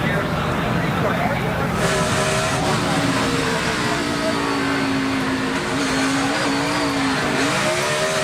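A NASCAR Sprint Cup race car spins at Watkins Glen after bouncing off the inside guardrail, its engine droning and sliding under continuous commentary, with crowd and track noise filling the background.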